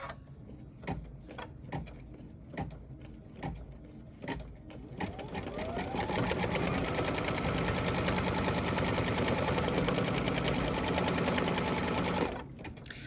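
An embroidery machine stitching a gas pump placement line on a pickup truck quilt block gives a series of spaced, rhythmic thumps, then settles into a continuous fast whirring stitch for several seconds before stopping.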